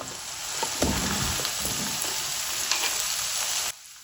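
Potatoes hit hot oil in a pan and sizzle loudly and steadily, with a crackling spit near the start before the frying cuts off abruptly at the end.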